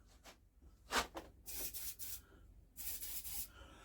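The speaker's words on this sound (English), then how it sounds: "just give them a little bit of maintenance spray" Maintenance spray hissing onto old engine bolts of an old Japanese two-stroke engine, several short aerosol bursts of varying length close by, with faint rubbing between, no talk.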